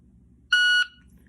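An electronic shot timer for dry-fire drawing practice gives a single loud, clean, high-pitched beep lasting about a third of a second, alone against near silence.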